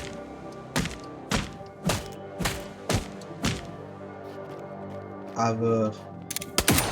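Heavy gunshot-like thuds land in a video game at a slow, uneven rhythm, about eight loud close impacts, with a burst of other game effects near the end and a voice speaking briefly.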